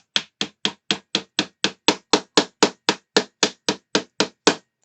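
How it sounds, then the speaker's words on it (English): A hammer knocks a pin through a Fanhome Power Rangers Megazord model in a steady, even rhythm, about eighteen sharp knocks in quick succession, close and loud with no talking. "the pin is going to go through this side, which means getting the hammer, knocking this through"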